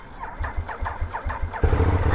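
A Ducati Diavel motorcycle on its standard exhaust cranks with a rhythmic, chugging starter for about a second and a half, then catches and fires into a loud, throbbing idle close by.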